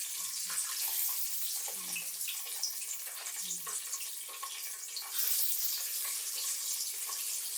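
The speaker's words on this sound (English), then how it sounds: "Comment if you can hear the fried chicken bubbling." Fried chicken bubbling in hot oil, a constant bright crackling sizzle with scattered pops, close and steady, with a few faint low sounds beneath.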